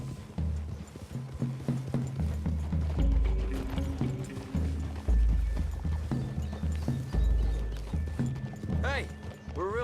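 Steady clip-clop of several horses' hooves at a walking pace through woodland in the video game Red Dead Redemption 2, close and prominent, with a brief whinny near the end.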